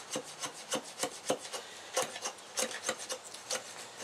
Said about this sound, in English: we'll make a few feather sticks,